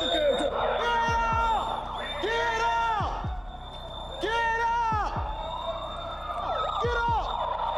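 Sirens wailing in a reacted-to episode of the comedy series Coulda Been House, rising and falling repeatedly at a steady loud level, mixed with voices and background commotion.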